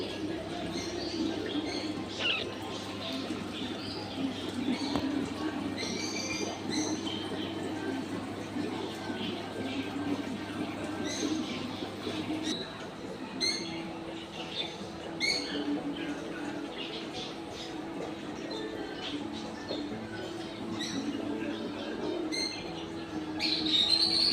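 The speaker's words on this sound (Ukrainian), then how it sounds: "А тут вже пташки, папуги, такі і мовчазні, і більш галас..." Chirps and tweets from caged parrots and other birds in a pet shop at a garden centre sound throughout over a steady indoor hum, with occasional voices in the background.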